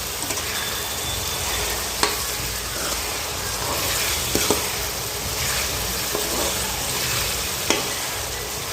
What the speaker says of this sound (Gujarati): ડુંગળી થોડીક સડી જવા આવી છે અને હવે મરચાંની કટકી નાખી છે.